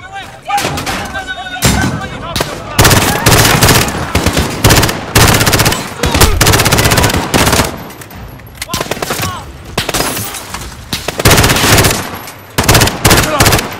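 Rapid bursts of automatic gunfire and heavy shots crackle loudly in repeated volleys, with brief pauses and some voices mixed in, in the video game Call of Duty: Modern Warfare.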